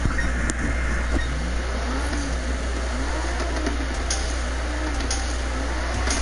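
A car engine revving in the Need for Speed racing game, a steady loud droning hum with rising and falling pitch sweeps, heard alone without talk.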